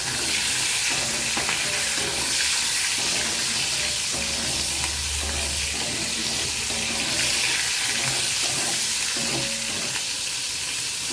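Green chillies crackle in hot tempering oil with a loud, continuous hiss and sputter throughout, and occasional stirring knocks underneath.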